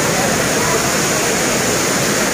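Waterfall at Kutralam pouring down in a loud, steady roar of falling water, close and continuous with no break.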